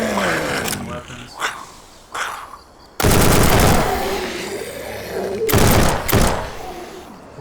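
Weapons fire in Day of the Infected in loud, abrupt bursts, some rapid and automatic, separated by short gaps with rumbling tails and echoing reverberation.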